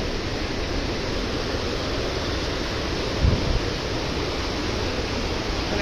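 A mountain river rushes beside a trekking trail to Langtang village in Nepal, a loud, steady broadband roar of flowing water with a brief low thump partway through.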